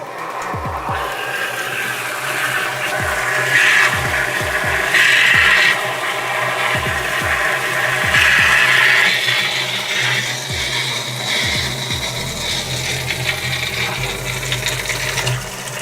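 Water rushes steadily through a heating installation being flushed during a boiler replacement, a continuous loud gushing with repeated low knocking pulses that swells in places, with no voices.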